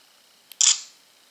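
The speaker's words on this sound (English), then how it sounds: "just by touching I can take a picture." A Nikon Coolpix S6400 compact camera fires its shutter once, a faint tick followed by a crisp, close electronic click-whir that fades quickly, with near silence around it.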